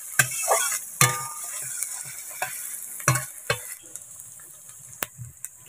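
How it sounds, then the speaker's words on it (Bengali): Chilli, ginger paste and tomato puree masala sautéing in oil in a pan, sizzling steadily under repeated sharp spatula scrapes and knocks against the metal, close up with no voices. "এবার আদা বাটাটা দিয়ে দিচ্ছি আর টমেটো পিউরি দিয়ে ভালো করে মশলাটা যতক্ষণ না তেল ছাড়ছে ভালো করে কষিয়ে নেব"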